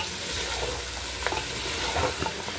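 Mutton biryani is stirred in a cooking pot, a continuous sizzling, scraping rustle with a few soft clinks, close and steady with no voices.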